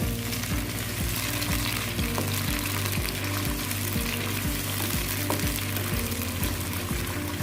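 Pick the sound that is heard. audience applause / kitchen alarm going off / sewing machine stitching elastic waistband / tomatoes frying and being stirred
tomatoes frying and being stirred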